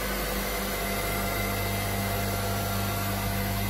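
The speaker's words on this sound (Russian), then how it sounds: "Компрессор шумит, кондиционера." A steady mechanical hum of an air conditioner compressor on a Prestige 520 F-Line boat drones on evenly, with no variation and no voices, fairly quiet.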